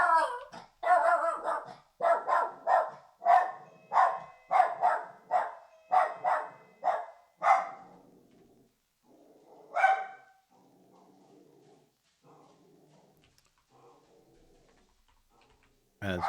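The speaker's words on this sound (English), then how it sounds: "our dog really doesn't like visitors" A pet dog barks at visitors: about a dozen loud, close barks in a steady burst, then a pause, one more bark and faint trailing noises.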